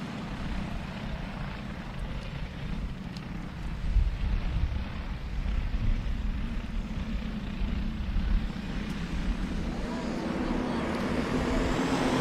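Race cars start a heat race at Golden Spike Speedway in Blue Earth, Minnesota, heard as a dull, continuous engine rumble from a distance that swells slightly now and then.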